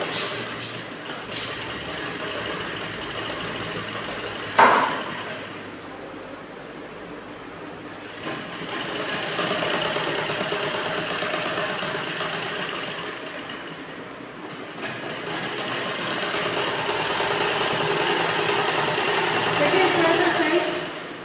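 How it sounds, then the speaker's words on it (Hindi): A sewing machine stitches a net fabric blouse in steady runs with a brief clack near the start, continuous and fairly close, and a faint voice now and then. "अब हम यहाँ से सिलाई लगाएंगे"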